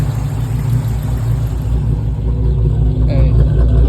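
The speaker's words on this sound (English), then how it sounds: "Try to get that Hemi tick to quiet down a little bit. Cause I ain't gonna lie, that motherfucker is loud." A Chrysler 300's Hemi V8 idles with a loud, close, steady rumble and a rapid ticking beneath it, running evenly without missing a beat.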